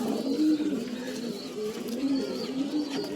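Soft, rolling coos of a red Chinese pigeon repeat close by, low and throaty, with a slight hum of background activity.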